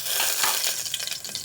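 Mustard seeds crackle and sizzle in hot oil in a home kitchen, with a dense, steady hiss broken by quick little pops that come close together and ring out clearly, with no voices over them.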